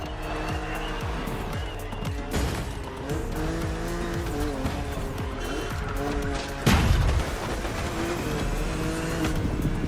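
BMW Z4 E89 coupe cabriolet racing in The Crew Motorfest, its engine droning steadily with shifting revs, tires squealing through turns and a sharp loud burst near the middle, continuous and close throughout.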